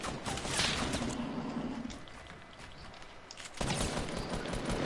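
Gunfire hits the player in Fortnite in rapid bursts of sharp shots, with a fusillade early, a quieter stretch, then a loud renewed volley near the end.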